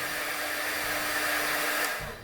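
Heat gun blowing a steady, loud rush of hot air, a constant broadband whoosh with a faint motor whine that holds level and then tapers slightly at the end.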